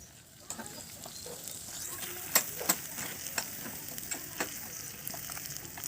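Onion and ginger-garlic paste sizzle and fry in a pan while a spatula stirs, with soft continuous frying hiss broken by sharp scraping clicks and taps at an irregular rhythm.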